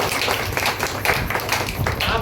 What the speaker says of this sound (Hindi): आप जो बच्चे हैं उनके लिए ताली बजाइए